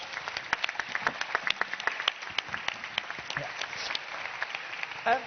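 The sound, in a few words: audience round of applause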